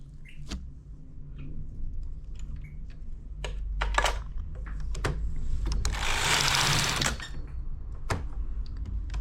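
A domestic knitting machine runs as its needles work the stitches, giving scattered sharp clicks and clacks over a low steady hum, with a louder sustained rasp of the carriage sliding across partway through, close and with no speech.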